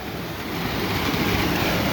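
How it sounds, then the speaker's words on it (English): An underground waterfall in Wolf Creek Cave roars in a steady, loud, broadband wash of gushing water that fills the space without a break. "you're immediately met with a loud gushing of water. And this is underground falls."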